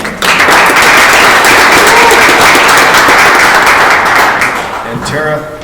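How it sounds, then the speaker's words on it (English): Loud, close applause fills a county and city legislative roundtable meeting, a dense burst of many hands clapping that holds steady for several seconds, then thins out as a voice begins speaking at the end. "Give her a round of applause."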